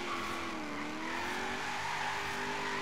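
A Holden Commodore fitted with a V8 squeals its tyres under clutch kicks in Forza Horizon 3, a steady, high, wavering screech that holds loud and unbroken throughout.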